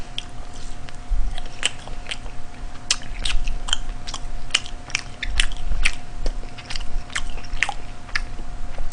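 Close, loud crunching bites and chewing of spicy boneless BHC fried chicken with cheongyang peppers, sharp repeated crackles in an irregular rhythm over a quiet room, with no talking.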